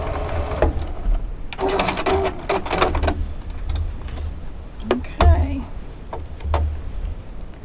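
Home sewing machine stitching a quilt block, its mechanical whir running in short bursts for a couple of stitches, close and moderately loud, while someone talks over it.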